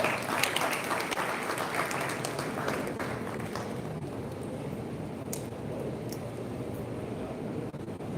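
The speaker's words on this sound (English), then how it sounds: "And we have a huge round of applause for her." A large seated audience at a first-year induction inauguration applauds the chief guest, a dense, even wash of clapping that holds steady for the full stretch without talk.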